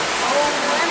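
Waterfall at Cachoeira do Curiango in Itacambira, a steady close broadband roar of falling and flowing water filling the whole short moment without a break.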